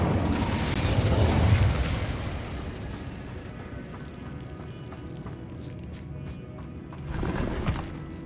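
Fiery spell blasts in Hogwarts Legacy: a loud roaring burst that swells and then decays into a rumbling tail, with a second, weaker whoosh near the end.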